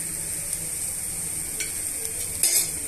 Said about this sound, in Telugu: కొబ్బరి తురుముని యాడ్ చేసిన తర్వాత ఇవన్నీ కూడా బాగా మిక్స్ చేసుకుందామండి.